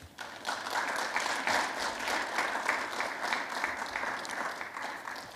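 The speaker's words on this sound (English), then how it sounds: "Let's give another round of applause for our judges for being here and giving time for us this evening." Steady round of applause for the judges at a college business innovation competition, an evening event; moderate, even clapping from a seated audience that holds at a constant level throughout.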